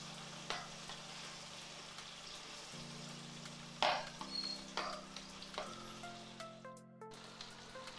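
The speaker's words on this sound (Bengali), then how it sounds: "গাঠিটা আর আলুটা আমি ভাজবো, তার জন্য আমি একটু হলুদ দিয়ে দিলাম, একটু লবণ দিয়ে দিলাম।" Potatoes and gathi seasoned with turmeric and salt fry in mustard oil with a quiet, soft crackle and occasional sharper pops over a low steady hum.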